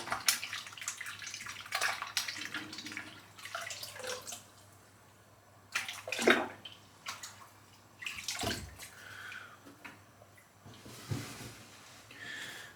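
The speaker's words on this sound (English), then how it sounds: "I'll just rinse that out now because I don't need" Tap water runs into a basin while shaving soap is rinsed out of a bowl, splashing and gurgling in uneven bursts with occasional drips and clunks, close and fairly quiet.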